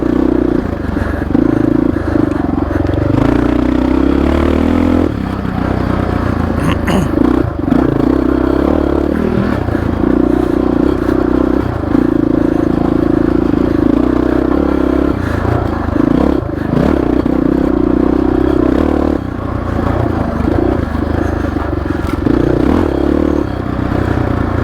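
Honda XR650R dirt bike ridden on a flowy trail: a loud, close engine drone rising and falling with the throttle, broken by brief dips, with clattering and scraping from the trail throughout.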